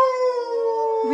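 A human voice imitates a wolf howl with one sustained, wavering tone, loud and close.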